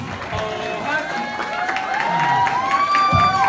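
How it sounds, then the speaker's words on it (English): A crowd claps and cheers, with whoops and shouted voices rising over the applause. "give him another round of applause."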